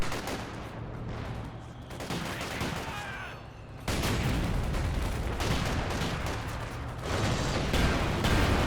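Heavy, booming shots from an anti-tank gun and battlefield fire roll through a competitive 2v2 real-time strategy match, with one sustained barrage of blasts and rumbling explosions that grows louder partway through.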